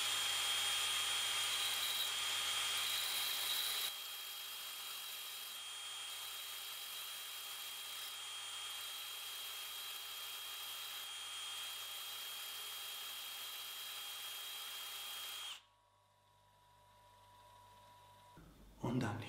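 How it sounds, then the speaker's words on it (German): A tungsten electrode spins in a cordless drill against a bench grinder, making a steady high grinding whine for about fifteen seconds before it stops abruptly. A voice talks over it. "Du spannst das in einen Akkuschrauber. Und dann gehst du an den Schleifbock"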